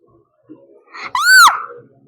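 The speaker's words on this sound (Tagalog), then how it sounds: "Sumigaw talaga ako off my top of my lungs." A single loud, high scream from a person playing a Roblox game, rising sharply and held for about half a second after a few faint murmurs.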